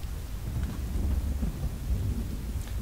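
Steady rain with a deep rolling rumble of thunder underneath in the video game Tomb Raider: Underworld, continuous and fairly loud, no voices.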